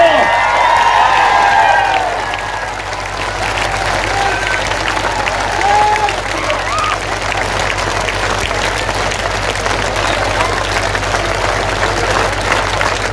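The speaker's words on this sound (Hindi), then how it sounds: "1 मिनट तक आपकी बजती हुई तालियां" A large crowd at a religious assembly for the Shri Ram birth festival in Mudkhed claps loudly and continuously for a minute, with dense applause sustained throughout and a few cheers mixed in near the start.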